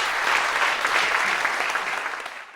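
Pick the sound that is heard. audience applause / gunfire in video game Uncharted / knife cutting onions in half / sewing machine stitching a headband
audience applause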